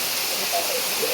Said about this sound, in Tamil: சும்மா அருவி பாருங்க